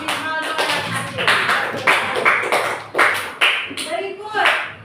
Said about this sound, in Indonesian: Tepuk tangan dulu untuk adik Rivaldo dan Asyik.